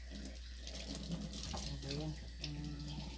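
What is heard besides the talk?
water running from a faucet while washing a coffee cup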